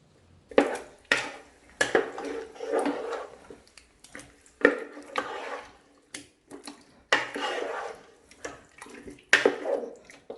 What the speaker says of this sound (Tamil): இப்போ நம்ம சிக்கன் எல்லாம் சேர்த்து இந்த மசாலாவில் நல்லா புரட்டிடலாம்.